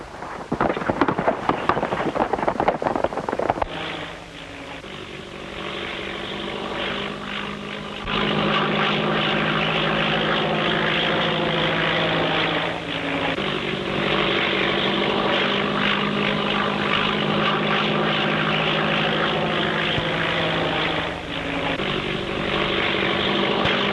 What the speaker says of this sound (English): Hey, where's this plane coming from?